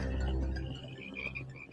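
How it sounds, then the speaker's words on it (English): Cane toads croak in a brief, low, throaty chorus, a steady warbling trill with no voices over it. "Cane toads."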